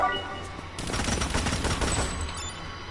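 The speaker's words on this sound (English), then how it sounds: "Wait, exploding them cannons!" Rapid bursts of cannon fire and explosions from a video game about an ant industry, a dense, loud volley of overlapping blasts with no talk.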